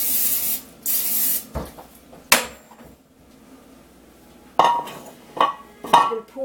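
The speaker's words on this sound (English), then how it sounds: "I spray it." Cooking spray hisses into a bundt pan in a few short bursts, two long sprays and then quick spritzes, close and loud, with light clatter of the can and pan between.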